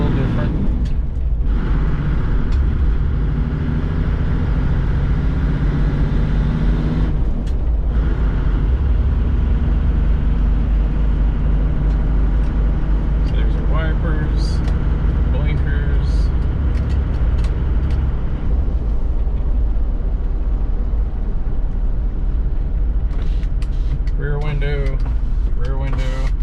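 A 1987 Toyota Land Cruiser HJ61 with the 12H-T turbo diesel driving at steady pace, a loud continuous engine drone and road rumble filling the cabin, with someone talking over it.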